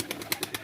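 Pet pigeons released from their coop give a few short coos and flutters, soft and close, in quick irregular bursts.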